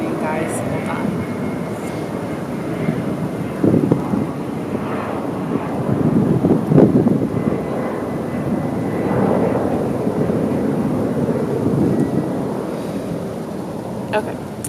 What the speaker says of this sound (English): Just wait for the airplane, guys.